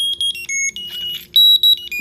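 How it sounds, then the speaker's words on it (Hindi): A Jio Tag Air tracker rings out with loud, high electronic beeps in a fast stuttering pattern whose pitch shifts between tones, close and clear against a quiet room. "तो काफ़ी लाउड बीप होने लगता है।"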